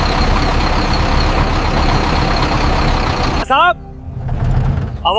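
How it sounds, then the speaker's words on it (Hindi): A heavy truck rumbles loudly near a roadside police checkpoint, its engine noise steady and dense, then cutting off abruptly partway through. A short electronic tone follows, and the rumble then returns more faintly. "कोई भारी गाड़ी आ रही है, ट्रक लग रहा है।"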